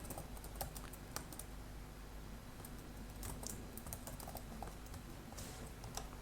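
Quiet, rapid typing on a computer keyboard while writing PHP code, irregular bursts of soft key clicks over a faint steady background hum, with no one talking.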